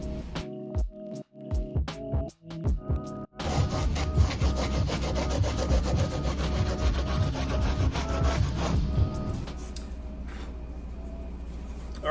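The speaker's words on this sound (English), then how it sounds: "I did use some 36 grit sandpaper to kind of contour that the way I wanted to." A handmade car spoiler sanded by hand with 36 grit sandpaper, a few separate scraping strokes followed by fast, continuous rough rubbing, close and loud, then easing off.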